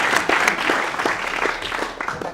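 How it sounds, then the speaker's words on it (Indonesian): Audience at a Poltek LLASDP Palembang pantun event bursts into brisk, moderately loud clapping, a dense patter of many hands sustained for a couple of seconds. "Oh, tepuk tangan dulu yang ujung."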